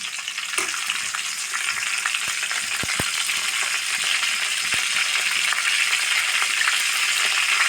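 Curry leaves fry with mustard seeds in hot coconut oil in an iron pan, a continuous hissing sizzle punctuated by a few sharp pops early on, with no one talking.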